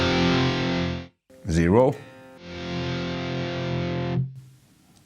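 A distorted guitar tone comes through a 1984 Marshall JCM800 2203 amplifier being restored, in two sustained chords with a short squealing bend between them. A voice speaks briefly in the gap.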